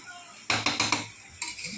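A spatula scrapes and clanks against a pan while fried rice with mixed vegetables is stirred, with four quick metallic strokes close up followed by a softer clatter.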